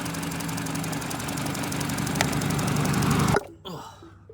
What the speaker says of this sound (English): misfire right there.